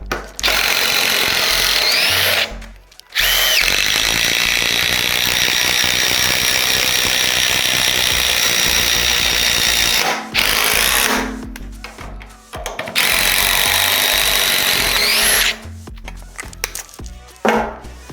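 An 18-volt cordless impact driver driving a screw, long loud bursts of rapid hammering rattle with brief pauses between runs, close up, no talking.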